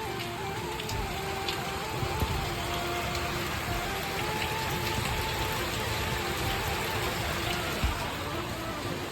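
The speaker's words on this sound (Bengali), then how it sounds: "দেখো কত সুন্দর বৃষ্টি হচ্ছে তোমাদের একটু দেখাই" Steady rainfall pours down in a broad, continuous hiss with dense patter on surfaces, holding an even level throughout with a few slightly louder drops.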